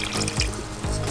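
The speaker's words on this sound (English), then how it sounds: "now you're going to put 1 cup of water in there" Water pours and trickles into a pot while homemade candy is being made, a close, steady splashing stream with a couple of brief gurgling surges.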